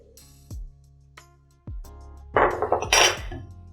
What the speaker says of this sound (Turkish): yemek kaşığı kadar un ilavesi yapıyorum ve iyice karıştırıyorum